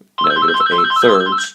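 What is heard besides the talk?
telephone ringing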